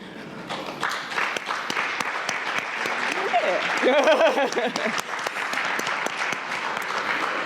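A conference audience applauds the planning team, leadership and volunteers at a think tank welcome session; sustained, dense clapping fills the room while a few voices and cheers rise briefly in the middle.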